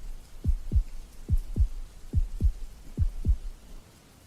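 Steady heartbeat in paired thumps, eight beats in four lub-dub pairs, low, deep and close, alone against a faint hiss, stopping shortly before the end.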